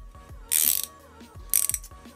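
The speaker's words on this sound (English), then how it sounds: "I mean, the ratchet does feel pretty good." Kincrome ratchet fitted with a 19mm socket, giving two bursts of rapid, close, crisp clicking about a second apart, each with a few softer knocks between, no talking.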